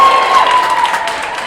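Crowd in the Warner Grand Theater at a Los Angeles mayoral candidates forum cheering and clapping, a short loud burst of mixed applause and voices with a sustained tone running underneath.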